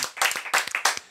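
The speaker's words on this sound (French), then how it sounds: "Maître Connard, qu'on peut applaudir" Studio audience applauding a bailiff on a French television game show, bursts of clapping rising and falling in loud waves over about a second.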